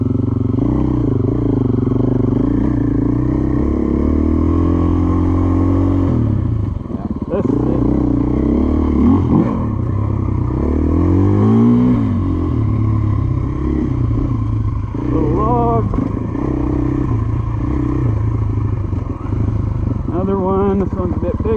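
A 2024 GasGas EC450F dirt bike engine drones and revs while riding off-road, with rising and falling pitch sweeps, loud and close, and light clatter from the trail; a rider talks over it.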